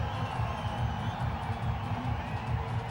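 Spectators at a cricket match cheer a boundary struck by Manoj Tiwari for the Bhojpuri Dabangs, a steady, fairly distant crowd roar with scattered whoops and clapping running through the whole moment.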